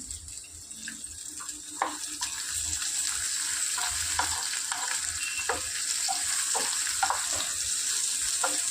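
Onions tossed into a hot pan of oil sizzle continuously up close, joined by a few light clinks and stirring sounds as the frying settles into a steady hiss.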